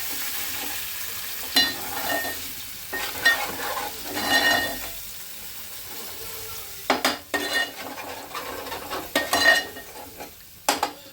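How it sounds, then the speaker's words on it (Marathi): Ground masala paste frying in oil for prawn curry, a low sizzle broken by bursts of spatula stirring and metallic scraping against the pot, with brief quiet gaps between strokes. "मसाला नीट फ्राय करून घ्यायचा तेलामध्ये।"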